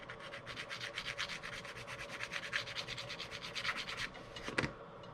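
Rhythmic rubbing strokes as electric jack switch contacts from a truck camper are polished, a steady back-and-forth scrubbing heard up close and alone, ending with a sharp knock.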